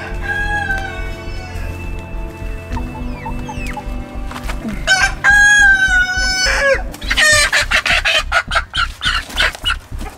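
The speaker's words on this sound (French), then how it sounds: "Il fait un élevage de poules, poulets, tout ça." Hens and roosters on a French poultry farm, where chicks and a goose are also kept, cluck steadily and loudly, with repeated crowing and busy overlapping calls rising toward the end, no voices among them.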